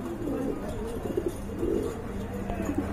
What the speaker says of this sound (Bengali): এই যে দেখেন বন্ধুরা কি কবুতর এগুলো